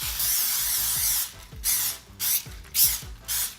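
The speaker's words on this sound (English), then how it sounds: "We have to spray our plate really well." Several short hissing bursts of butter cooking spray onto a plate, close and fairly loud, repeated in quick succession with brief pauses and faint clicks between them.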